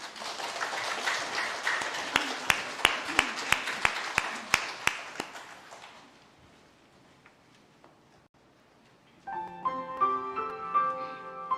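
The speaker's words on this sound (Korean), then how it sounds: "박수하겠습니다" Congregation applause after a church choir's hymn at a Sunday worship service: a burst of many hands clapping, with sharp individual claps standing out, fades away, and an organ or keyboard begins playing near the end.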